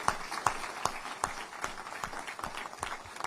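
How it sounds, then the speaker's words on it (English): Audience at a town hall gathering breaks into scattered, moderately distant applause, individual sharp claps popping out of a soft steady patter for a few seconds. "Give this man a round of applause."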